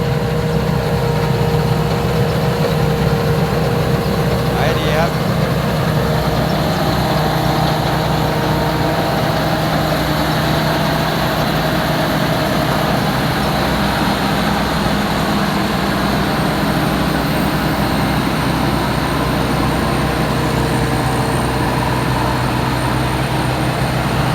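An old rice combine harvester's engine drones loud and steady at close range, holding a constant, unbroken roar throughout without clear revving peaks.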